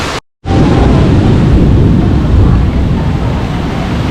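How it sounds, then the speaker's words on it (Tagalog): Heavy rain at Bugis Junction near the Singapore Flyer, with deep rolling thunder rumbling beneath it. After a brief dropout, a loud, steady, broadband roar holds for the rest of the clip. "Kulog."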